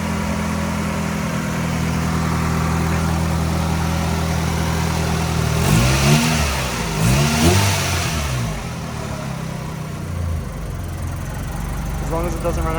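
A 1999 Honda Civic Type R engine runs loud and rough, rising in two quick revs midway before settling back to a steady idle.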